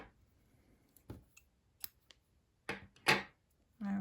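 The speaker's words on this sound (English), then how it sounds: "Okay, so we're going to cut off the yarn." Scissors snip through crochet yarn in a few short, quiet cuts separated by pauses, close up in an otherwise quiet room.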